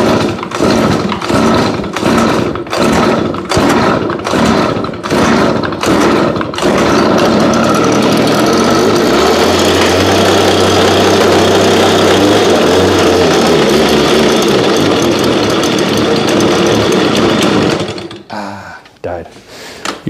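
A small lawn care engine left unused for months is pulled repeatedly with rapid sputtering attempts, then catches and runs loud and steady before cutting off, with a voice briefly heard.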